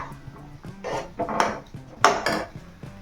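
A spoon scrapes and knocks against a metal pot in quick, uneven strokes as a thick semolina mixture is stirred up close.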